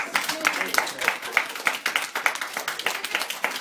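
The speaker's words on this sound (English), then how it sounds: "Let's give Grandpa another round of applause" A small gathering claps for an elderly grandfather, a lively burst of many hands at a brisk, uneven rhythm lasting the whole moment, fairly close, with faint voices mixed in.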